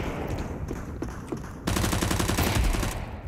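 Rapid gunfire in Counter-Strike 2, a loud sustained burst of automatic shots that comes in mid-clip over steady in-game ambience.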